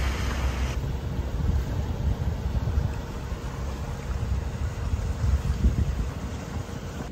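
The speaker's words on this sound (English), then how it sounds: "There's really not enough to sail, so we're still motoring." A sailboat runs under engine power through calm water, its motor a steady low drone mixed with constant wind buffeting on the microphone and faint water wash, with no voices.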